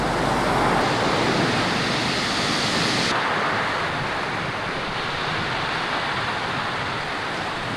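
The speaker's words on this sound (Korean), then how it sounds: "바다도 휴양지 스타일의 바다가 아니라 파도가 센 그런 바다이다 보니까 양쪽으로 엄청 시끄럽습니다" Strong surf pounding a pebbly beach in Lima, Peru, where the sea is rough enough for surfers; a loud, continuous roar of breaking waves with a windy rumble and no voices.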